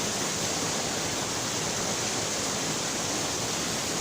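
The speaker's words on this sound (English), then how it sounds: "This is a waterfall." The Capua waterfalls in Arequipa roar as a steady, broad hiss of falling water, constant and unbroken throughout with no voices.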